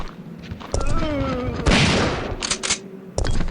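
Loud shotgun blasts fired at zombies in Resident Evil 3, a few heavy booming shots separated by pauses, with someone talking between them.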